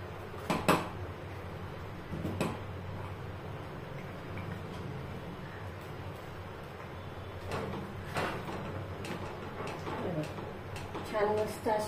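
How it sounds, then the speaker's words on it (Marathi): Ground coconut for a traditional mango-coconut barfi is stirred in a pan, with intermittent scraping and clinking of the spoon against metal over a steady low background hum. "छान मस्त असे मिक्स करून घ्यायचंय"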